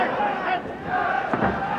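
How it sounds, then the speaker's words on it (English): Crowd at the Pride 20 fight event roaring and cheering, a loud continuous arena swell with shouts rising and falling, under a commentator's voice. "Man, the crowd is totally into this."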